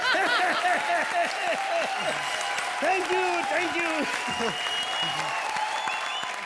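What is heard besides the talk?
audience applause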